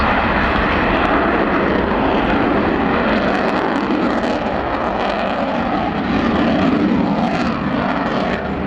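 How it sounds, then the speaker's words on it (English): A loud, continuous roar of an RAF Typhoon fighter jet with both afterburners lit dominates throughout, broad and rumbling, steady in volume as it climbs nearly vertically overhead at an airshow. "he'll light both the afterburners and climb nearly vertically"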